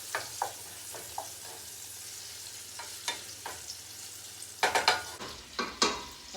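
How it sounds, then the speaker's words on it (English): Meatballs frying in a pan and tossed around with a spoon, a quiet steady sizzle punctuated by scattered scraping and knocking strokes that grow busier near the end, with no talk. "You just get your spoon, toss them around."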